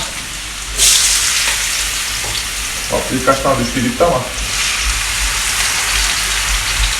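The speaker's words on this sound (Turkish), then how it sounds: "Şimdi patateslerimizi kızartıyoruz." Steady sizzling of potatoes frying in hot oil, with a short burst of voices talking over it partway through.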